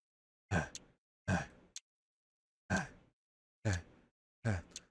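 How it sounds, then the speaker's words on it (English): Ragged breathing in the Tsukihime visual novel game, five separate heavy gasping breaths, close and loud, spaced unevenly with short silences between them. "The sound of my breathing. It's ragged."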